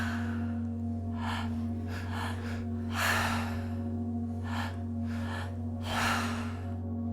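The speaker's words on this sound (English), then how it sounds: "we're going to breathe into the belly, into the heart, and then exhale" Breathwork breathing repeats in a steady cycle, with audible breaths drawn into the belly and then the chest before each exhale, close and clear over a constant low electrical hum.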